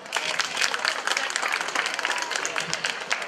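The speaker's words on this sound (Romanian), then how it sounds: "Aplauze!" Dense applause from a crowd, steady and sustained throughout, many hands clapping at once at moderate loudness.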